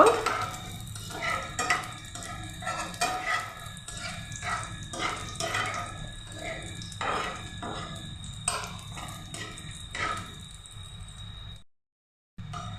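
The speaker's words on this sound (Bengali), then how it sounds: "দিয়ে দিচ্ছি দুটো তেজপাতা, দিয়ে দিচ্ছি কিশমিশ, কাজু, এগুলি একটু ভেজে নেব।" Bay leaves, raisins and cashews frying in a pan are stirred with a utensil, making steady rhythmic clinks and scrapes at moderate volume, with faint background ambience and a brief silent gap near the end.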